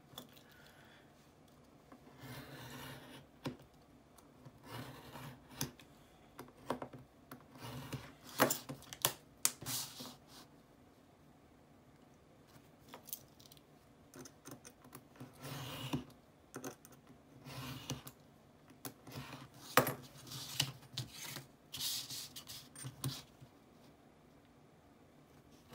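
Blades cutting and snipping parts free from the sprues of a plastic model high street store building kit, a series of close, quiet clicks and scrapes in irregular bursts with no talking.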